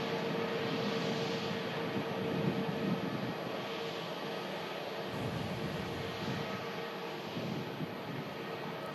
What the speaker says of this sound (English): the A380 now making its way down to the end of 2-3 right for departure back to Dubai.